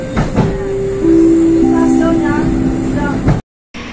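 The Rajabasa passenger train pulls into Rejosari station in Lampung, a loud steady rumble with a long shrill brake squeal holding and shifting pitch, ending in an abrupt cut.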